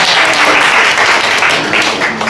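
An audience at a peace award ceremony applauds steadily with dense, even clapping that fills the space throughout and stays loud from start to finish.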